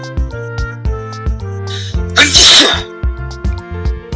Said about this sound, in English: Elmo sneezes.